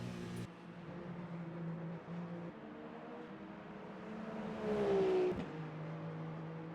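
A Toyota GR010 hybrid race car in Le Mans Ultimate braking hard at Monza after the back straight, its steady engine drone shifting pitch and swelling briefly as it slows, heard alone without talk.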